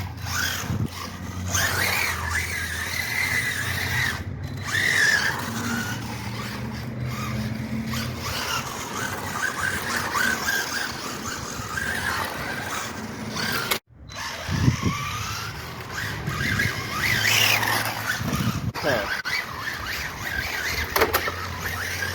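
A Kyosho Fazer MK2 1969 Chevy Camaro Z/28 brushless RC car drives nearby, its motor whining and surging in bursts with gritty tire and drivetrain noise, a sharp jolt midway, and no talk.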